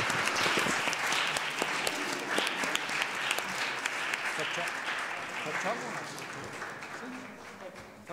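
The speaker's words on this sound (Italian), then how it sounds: "E quindi lo ringraziamo e gli facciamo un applauso." Lecture audience applauding a poet at the 62nd Ceppo literary event, steady dense clapping throughout with some voices murmuring underneath, moderately loud and sustained.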